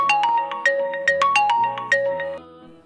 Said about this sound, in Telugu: ఏంటి కాలేజ్ నుంచి ఫోన్ వస్తుంది?